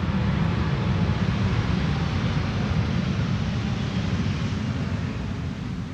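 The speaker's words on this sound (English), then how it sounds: "In the foreground we have KLM Flight 668 arriving from Austin, Texas. We have the 747." A KLM Boeing 747 arriving at Amsterdam Schiphol in a crosswind makes a broad, steady, distant jet roar mixed with wind rumble, with no talk.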